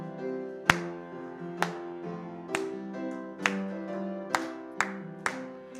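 A church congregation claps sharply in time with an organ or keyboard during a hymn. The claps come as regular loud accents roughly once a second over the sustained chords.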